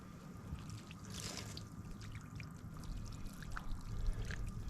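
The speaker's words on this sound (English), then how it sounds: "I'm just going to dump the water out right on the stump so I don't light the stump on fire" Water dumped from a container onto a tree stump at an outdoor campfire site, a brief splashing pour with trickling and dribbling over wood and faint ambient noise.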